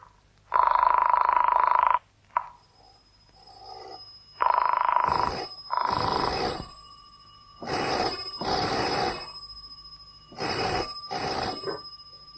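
An old-fashioned telephone bell rings in several loud, insistent bursts with short gaps between them, part of a 1951 spy radio drama. A steady tone and a low hum run underneath, and no one speaks over the ringing.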